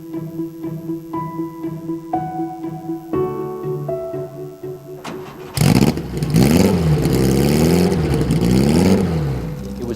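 A 1960 Porsche 718 with a 1600cc four-cylinder, air-cooled, normally aspirated mid-mounted engine revs hard, its loud, close roar rising and falling in repeated sweeps after a short steady tonal passage.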